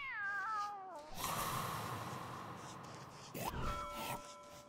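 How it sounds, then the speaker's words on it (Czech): In-game cat from Don't Starve Together gives a clear, wavering meow at the start, then the game's music and effects take over, with a brief creature cry near the end. "Ha, blbá kočka, na co skákala?"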